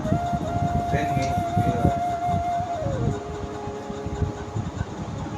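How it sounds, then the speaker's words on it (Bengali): A steady rumble of a running train with a long sustained horn-like tone that drops in pitch partway through, and faint voices in the background. "এই দেখো ট্রেনের অবস্থা"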